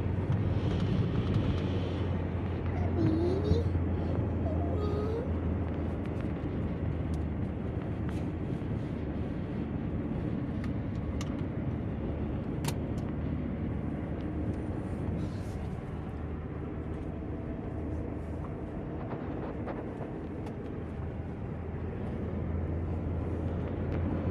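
A car cruising at speed on the Aceh toll road in Indonesia: steady cabin rumble and road noise throughout, with a brief faint voice early on.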